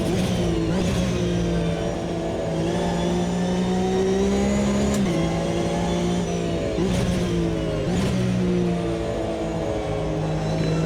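A Porsche 992 Cup race car launching in the Automobilista 2 racing game, its engine note rising in pitch as it accelerates, with brief dips at the gear changes, loud and close throughout with no talk.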